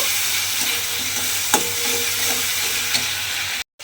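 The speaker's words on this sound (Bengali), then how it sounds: "প্রথমে এই মাছ ভাজার তেলের মধ্যে আমি মশলাটা দিয়ে দিলাম। দিয়ে মশলাটা একটু ভালোভাবে কষিয়ে নেব।" Spice paste sautés in oil left over from frying prawns, giving a loud, close, continuous sizzle with a few stirring scrapes. It cuts out abruptly near the end.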